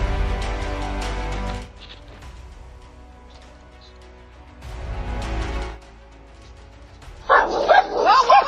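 Two dogs bark and yip in loud, choppy bursts as they chase a moose away from a home's property, with voices talking over parts of the commotion.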